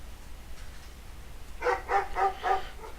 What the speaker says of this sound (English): All these damn dogs.